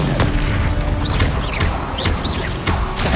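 Confringo blasts in Hogwarts Legacy combat burst out amid a loud, dense wash of spell effects and rumbling impacts, with several sharp hits landing in quick succession during a continuous battle din.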